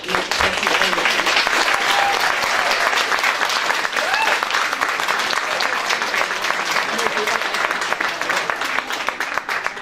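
Sustained, dense applause from a large audience at a youth service launch event in Ballyfermot, steady and loud throughout with a few voices and whistles faintly mixed in.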